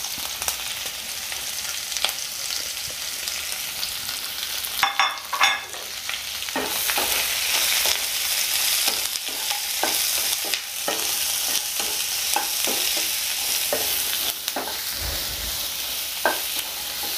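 Finely chopped onions fry in a pan with a bright, steady hiss and sizzle, punctuated by repeated scraping strokes of stirring, close and fairly loud with no talking.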